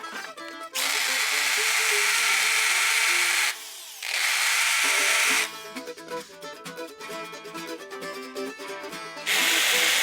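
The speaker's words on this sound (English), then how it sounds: "I got the holes drilled, but I had to use the low speed on my hammer drill" A hammer drill on low speed whines loudly in long bursts while drilling holes in steel, pausing briefly between runs, with a rougher, rattling stretch of grinding chatter in the middle.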